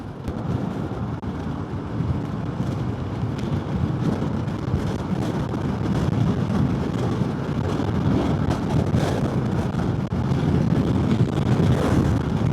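Steady, rumbling wind buffets the microphone throughout, a continuous low roar with no voices, heard while riding a Voge SR1 motorcycle.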